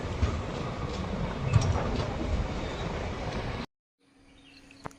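A Konkan Railway passenger train from Mangaluru to Madgaon stands at Inja station during the monsoon, giving a steady, close rumble that cuts off abruptly, leaving near silence with faint bird-like chirps and a single click.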